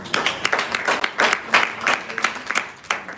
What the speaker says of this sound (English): Can you clap for her, please?